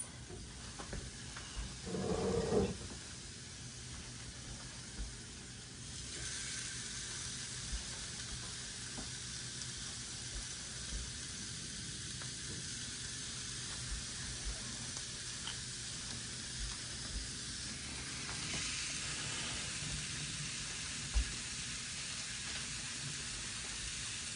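Burger patties sizzle steadily in a pan, a soft continuous hiss with a brief clunk near the start; quiet and without speech.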